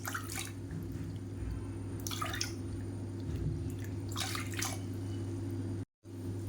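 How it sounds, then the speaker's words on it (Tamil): Water poured into a cup of rice and urad dal, a soft trickling and dripping that is faint and close, heard alone over a low steady hum. "அதே கப்பில் ஒரு 3 கப் அளவுக்கு தண்ணி சேர்த்துக்கலாம்"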